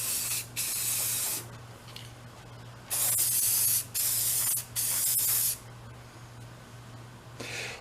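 Primer is spray painted onto a vintage Snap-on toolbox in several close hissing bursts, some short and some lasting about a second, with brief quiet gaps and a faint steady hum underneath.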